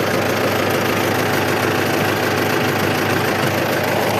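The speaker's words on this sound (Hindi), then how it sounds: "मैं अब यहाँ पर ट्रैक्टर चलाने पहली बार चला रहा हूँ" A tractor engine runs steadily, a dense close rumble with a knocking idle quality that stays constant throughout.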